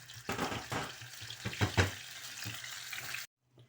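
Marinated chicken keema dropped into a pan with under a tablespoon of oil gives a lively close sizzle with a few sharp spattering bursts, then cuts off abruptly near the end; no one speaks.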